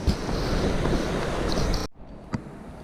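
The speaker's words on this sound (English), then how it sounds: "I'm into a section of just fast, raging water." Fast, raging water on the Truckee River rushes loudly and steadily close by, a dense broadband roar with wind buffeting the microphone, then cuts abruptly to a much quieter, softer flow.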